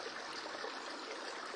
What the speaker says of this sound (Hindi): ये शायद पानी का फ्लो है